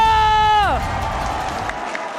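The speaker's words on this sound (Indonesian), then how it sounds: "MPL Arena minta tepuk tangannya" A crowd in an esports arena at a Mobile Legends MPL match, applause and cheering swelling steadily behind a sustained tone that slides downward, the clapping continuing as a broad wash.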